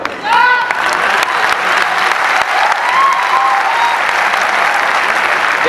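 Large indoor audience at a Lucknow corporate function breaks into loud, sustained applause, dense clapping throughout with a few whistles and cheers rising above it.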